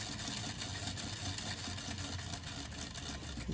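A sewing machine stitches a seam on a frog plush, a steady fast mechanical whirr with a fine rhythmic chatter, close and moderately loud, running alone without talk.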